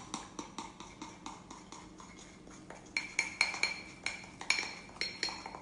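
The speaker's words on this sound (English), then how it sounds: "you're getting your spoon right into the edges of your mug" A spoon stirs mug cake batter inside a mug at a cake-making workshop, giving a steady run of close, rhythmic clinks and scrapes against the ceramic that grow brighter and louder toward the end.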